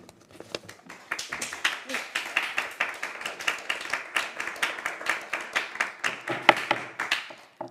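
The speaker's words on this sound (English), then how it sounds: "I would also please ask that there be no applause in the chamber" Scattered applause in a city council chamber during a public meeting, a ragged burst of hand clapping from a modest crowd that swells after the first second and carries on for several seconds, moderately close.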